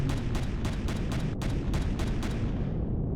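Rapid bursts of gunfire in the sci-fi survival game Empyrion Galactic Survival, roughly eight sharp evenly spaced shots fired in a steady rhythm, fairly loud over a continuous low rumble, with the last shots fading away.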